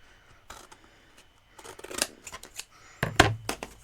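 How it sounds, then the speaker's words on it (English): Scissors cutting freehand around a shape in card, with scattered snips followed by louder clustered cuts toward the end, close and crisp. "I'm just going to cut this out freehand"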